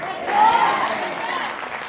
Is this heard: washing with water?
no